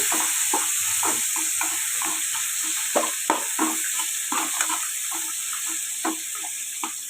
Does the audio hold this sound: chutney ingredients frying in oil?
yes